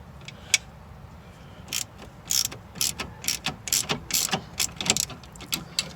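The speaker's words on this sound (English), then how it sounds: "I have a ratcheting wrench, so I'm gonna use it." A ratcheting wrench tightens a sway bar link during a front strut assembly job, giving a run of sharp, close clicking bursts in quick irregular succession with brief pauses between strokes.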